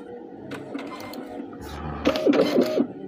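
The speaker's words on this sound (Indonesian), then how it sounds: "sudah tersambung. Ini sudah bisa mencetak." Cash register receipt printer printing a slip: a short burst of whirring, buzzy mechanical feed and print noise with small clicks, close and fairly loud, building toward the end of a three-second stretch.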